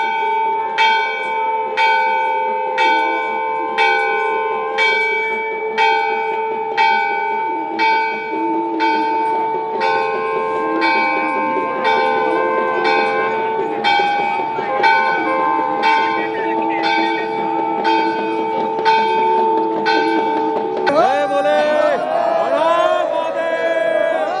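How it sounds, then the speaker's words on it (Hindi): Temple bells ring at a Hindu aarti ceremony at Kedarnath, struck in a steady, regular rhythm for a long stretch with sustained ringing tones and a crowd murmuring underneath, loud and close before a swell of noise near the end. "आरती शुरू हो गई भाई"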